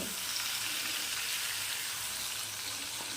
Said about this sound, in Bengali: এদিকে আমি কিছু আলু ভেজে নিচ্ছি